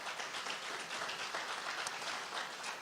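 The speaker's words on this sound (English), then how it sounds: "Let's give them a round of applause for that." Steady applause fills an awards-night event for a football program, a broad wash of many hands clapping at a constant level throughout, with no voices standing out above it.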